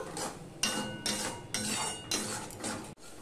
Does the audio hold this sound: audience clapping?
no